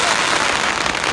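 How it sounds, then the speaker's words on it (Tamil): Firecrackers crackle and pop in a dense, continuous burst near a temple at Sabarimala, a steady rattling wash of small bangs with no pause. "நல்ல வெடியெல்லாம் வெடிச்சு அருமையாக வைப் பண்ணிட்டு இருந்தாங்க"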